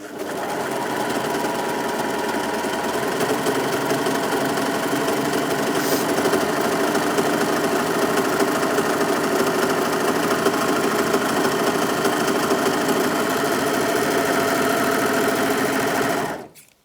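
A Brother 3034DWT overlocker stitches along a fabric edge in one steady, loud, continuous mechanical whir that holds for about sixteen seconds before cutting off abruptly at the end.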